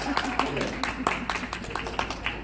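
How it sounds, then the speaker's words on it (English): Scattered, uneven clapping from a small audience at a junior event, individual claps standing out in an irregular rhythm, with voices and a low steady hum underneath. "Let's clap for ourselves, shall we?"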